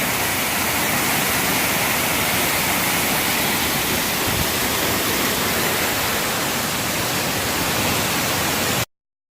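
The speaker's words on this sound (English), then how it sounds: "There you go, there's Dickerson Creek Falls." Dickerson Creek Falls at Ueland Tree Farm roars with a loud, unbroken wash of falling water, heard close and steady throughout with no voices, then cut off abruptly.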